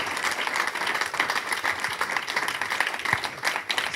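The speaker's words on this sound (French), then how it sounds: "Je vous demande de les applaudir" A political public meeting audience in Nantes gives steady, dense applause, many hands clapping continuously at moderate volume without pause.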